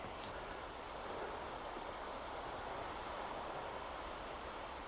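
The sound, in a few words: waves crashing into the shore at a beach cove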